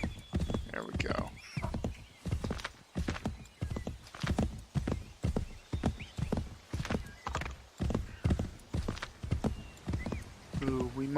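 Galloping horse hooves from Assassin's Creed 3 beat in a steady, even rhythm throughout, with brief neighs and a voice talking over the pounding.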